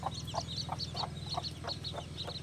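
A Manador rooster clucks in a quick series of soft, repeated notes, faint and close, over a low steady background hum.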